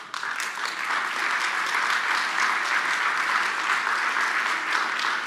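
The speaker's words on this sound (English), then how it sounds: "all of you are clapping because you know why" An audience claps steadily and loudly, a dense, sustained wash of applause with no pauses.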